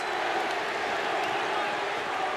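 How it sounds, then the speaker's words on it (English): An arena crowd in Boston roars steadily for the Celtics during Game 7 of the 1981 Eastern Conference Finals against the Philadelphia 76ers, a dense, unbroken wall of cheering noise throughout. "Crowd trying to urge on the Boston Celtics that they've done so many times in the annals of the NBA"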